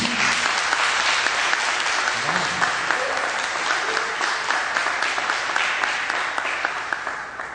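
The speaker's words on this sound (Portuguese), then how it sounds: "dá uma salva de palmas ao Senhor" A church congregation at a Baptist service applauds in a long, steady wash of clapping that fills the whole stretch, loud and close, fading slightly toward the end, with a few voices faintly mixed in.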